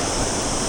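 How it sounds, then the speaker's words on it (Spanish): Rough sea surf churns along the rocky Llevant coast of Mallorca, a dense unbroken wash of roaring water, loud and close, with no voices. "Y está revuelta la mar, sí, está revuelta."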